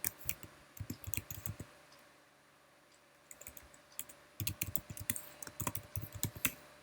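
Close, quiet clicking of computer keyboard keys as a layer name is typed in a design program, quick bursts of keystrokes with a pause in the middle, no talking.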